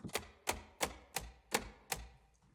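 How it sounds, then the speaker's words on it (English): Reed selector switches on a sampled 120-bass accordion for Kontakt click on and off, six sharp mechanical clicks in a steady, evenly spaced rhythm, close and crisp with short decays, no talk. "the switch sounds are the sounds of the reed selectors being turned on and off."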